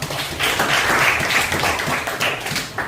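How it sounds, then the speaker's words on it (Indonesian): A classroom of students claps for a classmate, a dense, loud burst of applause that carries on steadily for a few seconds. "Tepuk tangan dulu buat Sano."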